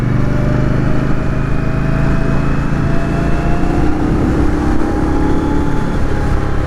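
An Indian Scout Bobber motorcycle engine runs loud and close, its steady roar rising in pitch as the revs climb, with no speech over it.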